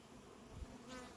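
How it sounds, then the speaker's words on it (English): Honey bees in a hive super hum with a steady, close, continuous buzz, clustered on the frames, with no voices over it. "So, and if you can look in here, Trey, you can see how much they're clustering inside here, inside the super."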